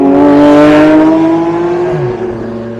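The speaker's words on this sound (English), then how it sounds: "Turn this camera around and feel some of these cars coming in behind me." Cars on a road near the Spa race circuit in the Ardennes, a loud close engine drone with a steady humming pitch that fades as a vehicle passes and recedes.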